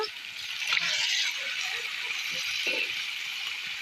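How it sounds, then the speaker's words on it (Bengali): Meat dropped into spice paste frying in a pan gives a steady, loud sizzle and crackle throughout, with a brief stirring rattle near the start. "মশলাটা কষা নিয়ে এসে আমি এখন মাংসটা দিয়ে দেবো"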